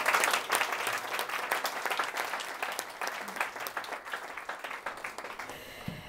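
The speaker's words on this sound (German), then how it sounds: "Nochmal einen Applaus für die beiden." A live audience at a tech showcase applauds two presenters, with dense, steady clapping that fades gradually toward the end and no talk over it.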